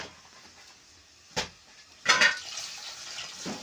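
Water poured into a dried fish curry cooking on a wood-fired stove, two short splashing pours close by with quiet gaps between, no talk.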